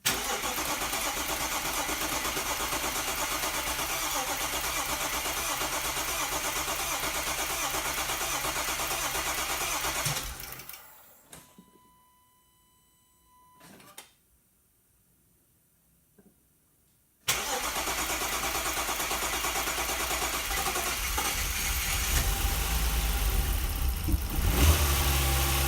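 Audi A4 B7 3.2 engine struggling through a hard start after its fuel rails were drained, steady running noise, then a quiet lull with a brief crank, and a sudden loud catch into a rough, close idle.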